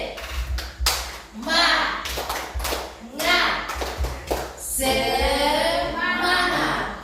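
Indonesian school class doing a rhythmic spirit clap led by a teacher, with bursts of patterned clapping and group chanting voices, fairly loud and close, ending in sustained cheering.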